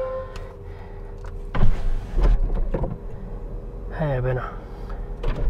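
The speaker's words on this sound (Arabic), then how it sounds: "هلا خلينا نكشف السياره" Retractable roof of a 2025 McLaren Artura Spider opening, with mechanical clunks and a whirring motor sweep, followed by a short beep, while someone talks nearby.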